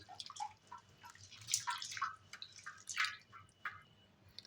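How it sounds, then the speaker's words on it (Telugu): Urad dal (black gram lentils) rinsed in water by hand, with soft irregular drips, trickles and sloshes close up, no talking. "దీనిని ఒక 2 టైమ్స్ మంచిగా వాష్ చేసుకోండి మినపప్పుని."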